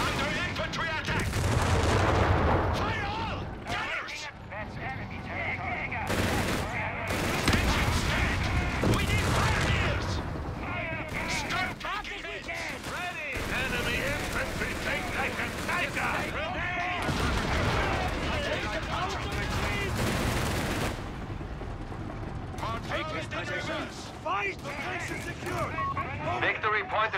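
Infantry gunfire in Company of Heroes 3, with dense bursts of rifle and machine-gun fire and heavy booms that run almost continuously under in-game voice callouts.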